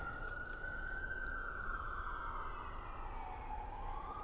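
An ambulance siren passes steadily, its wailing tone sliding in pitch over a continuous traffic rumble, loud and unbroken throughout.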